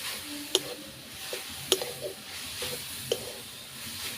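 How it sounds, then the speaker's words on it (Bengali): Coconut filling for patishapta pitha, mixed with Amul milk, stirred and cooked down in a pan: a soft sizzle with scraping strokes and three or four sharp clicks of a spoon against the metal. "এবার পুরটাকে ভালো করে মেরে নেব।"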